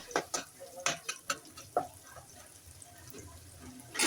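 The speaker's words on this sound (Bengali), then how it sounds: "হাফ কাপ পেঁয়াজ কুচি দিয়ে দিলাম।" Half a cup of chopped onions frying in a generous amount of oil in a pot for a pangas fish bhuna, with a few quick stirring clinks up front, then a low, soft sizzle and no speech.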